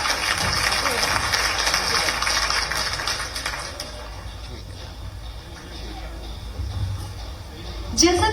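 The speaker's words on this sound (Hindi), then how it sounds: "जोरदार तालियां।" Audience applause at a ceremony in Bhopal where the Chief Minister hands out free e-cycles to people with disabilities. A dense wash of clapping fills the first few seconds, then fades into quieter room sound.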